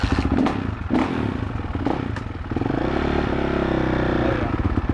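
A motocross dirt bike engine at Thunder Valley idles with a rough, rapid throb, then rises in a goosed rev and holds steady, loud and close with some clattering.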